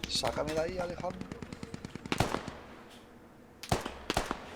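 Artillery fire in an online multiplayer war game, a rapid rattling burst of close automatic shots followed by several heavy booming blasts and a far rumble, with players talking over parts of it.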